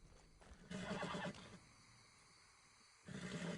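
A horse in a video game whinnies loudly twice, a long shrill neigh followed after a pause by a second shorter one, with faint ambient background between.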